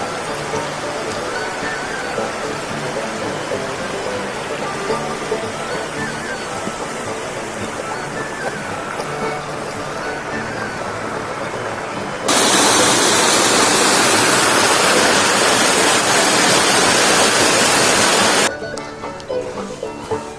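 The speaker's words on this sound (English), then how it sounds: "There's a waterfall down here." A small waterfall beside a walking path at Slayley Hall in Northumberland, heard as a soft steady rush at first, then a louder close wash of falling water for several seconds before it drops back.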